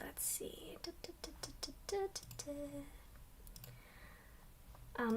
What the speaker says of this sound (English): I'm clicking so hard, guys.